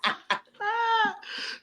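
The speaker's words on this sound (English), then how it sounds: "You laughing me into a cough." A person coughs while laughing: a few short, sharp bursts, then a drawn-out voiced, laugh-like sound and a rough breathy tail, all close and fairly loud.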